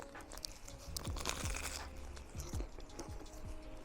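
Crunchy chewing of a Greggs steak bake, a flaky pastry with steak filling, eaten up close: repeated crisp crunches and bites in an irregular rhythm, fairly loud, with no talk.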